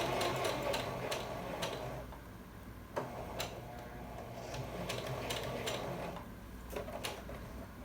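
A sewing machine stitching a shirt sleeve, with quiet mechanical ticking and clicking in an irregular rhythm over a faint whirr, close up and fairly soft.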